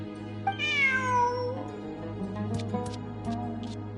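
A cat meows in the Genshin Impact video game, a single rising and falling meow near and clear over a steady hum of game music, followed by a few soft clicks.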